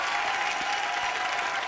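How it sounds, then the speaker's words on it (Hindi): Steady, dense applause from a large studio audience at a TV comedy talk show, continuous throughout. "जोरदार तालियां इनके लिए"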